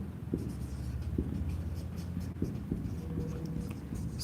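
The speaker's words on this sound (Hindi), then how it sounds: "पूरा ही लिख देते हैं इसको भी" Chalk or marker strokes on a board during a physics lesson on train speed problems, a steady scratchy scrawl of short repeated strokes with brief pauses, close and moderately loud, with no talking.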